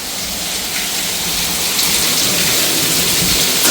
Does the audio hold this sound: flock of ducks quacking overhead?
no